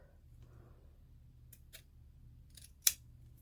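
A few quiet, crisp snips of scissors cutting a fabric sachet pouch, ending in one sharper close cut against a near-silent room.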